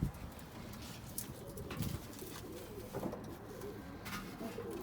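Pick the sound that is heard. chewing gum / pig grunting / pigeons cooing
pigeons cooing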